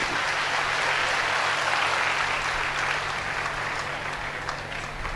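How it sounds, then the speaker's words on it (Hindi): Loud, dense audience applause fills the whole stretch at an event announcing the Assam president of Shankar Sena in Guwahati, steady and sustained with no break. "बहुत ज़ोरदार तालियां इनके लिए।"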